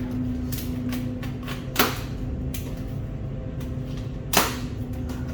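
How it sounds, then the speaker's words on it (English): A cardboard box holding a G42 turbo for an LS 5.3 is opened, giving two sharp, close snaps or tearing bursts over a steady low hum, with faint rustling between them. "let's open up this Turbo and have a look and see what it looks like"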